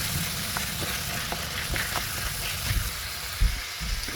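Chopped onion sizzles steadily in a hot pan for beef lasagna, a constant close crackle with occasional soft knocks and scrapes of stirring.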